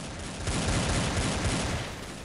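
A dense burst of overlapping gunfire from the video game Blood Strike, sharp repeated Desert Eagle shots blurring into a continuous barrage for a couple of seconds, with no talking.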